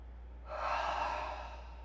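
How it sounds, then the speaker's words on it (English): A single loud, breathy exhale through the mouth during a sweaty yoga flow, rising sharply and trailing off over about a second and a half, heard alone with no talking. "Really feel free to make lots of noise on the exhales."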